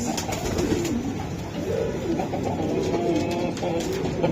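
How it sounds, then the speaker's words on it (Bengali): Racing pigeons cooing in a loft, soft throaty repeated coos close by over a constant murmur of many birds. "এই যে একটা কবুতর দেখেন"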